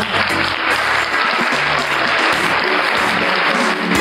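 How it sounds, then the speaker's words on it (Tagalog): Congregation clapping for the Lord during a church service, loud continuous applause filling the room with some voices mixed in underneath. "Palakpak sa Panginoon!"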